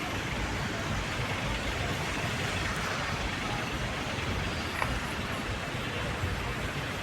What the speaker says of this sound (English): So these are the sights and sounds of Nairobi City.